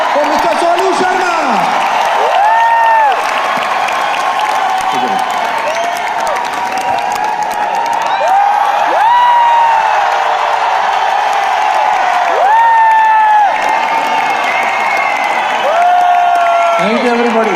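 Loud crowd applause and cheering for Mr Sonu Sharma at a Vestige award event, continuous clapping with whoops under blaring music with rising and falling tones throughout.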